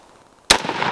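A single sharp 5.56 rifle shot, 62 grain load from a 16-inch barrel with a 1.7 twist, cracks loudly and close after a quiet moment, followed by a lingering outdoor echo.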